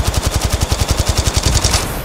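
Rapid automatic gunfire in Apex Legends Mobile: an even, fast string of about fifteen loud, close shots that stops abruptly near the end, with no talking.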